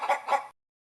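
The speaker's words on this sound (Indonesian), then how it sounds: "Ayam" A chicken gives two quick clucks close by, short and clear, followed by silence.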